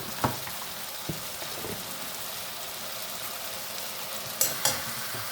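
Spices for chicken kosha fry in a pan with a steady, soft sizzle throughout, broken by a few light stirring clicks near the start and end, with no voices.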